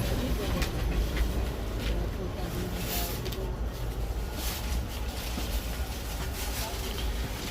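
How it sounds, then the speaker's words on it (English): A passenger train on the Bangalore to Mumbai line rolls along the rails with a steady broadband rumble and faint clicking, heard from inside a carriage, continuous and fairly loud, with a voice now and then. "I think the train is moving."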